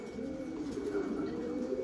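Thai Titan meat pigeons cooing on a farm, soft low repeated coos, fairly faint against a steady background hum.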